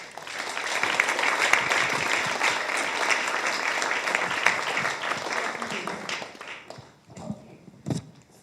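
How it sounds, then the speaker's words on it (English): Audience applause for panelists at a Nature Positive for Climate Action event, a broad steady clapping that fades after about six seconds into a few scattered claps and room sounds. "I hope you join me all with a big applause for my excellent panelists"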